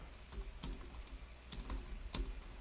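Fingers typing on a computer keyboard produce a few faint, scattered keystroke clicks at an uneven pace against a quiet indoor background.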